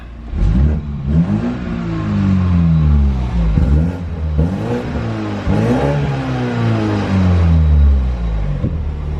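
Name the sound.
Toyota Supra four-cylinder engine revving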